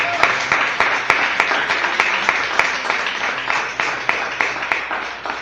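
Loud congregational applause during a church service, sustained clapping with a few sharper distinct claps standing out from the continuous wash of hands.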